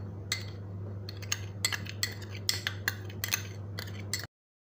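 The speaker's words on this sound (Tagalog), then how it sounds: "i-mix na natin yung niyog at saka asukal" Grated coconut and sugar mixed in a bowl, a utensil clinking and scraping against the bowl in a series of short, sharp taps over a steady low hum.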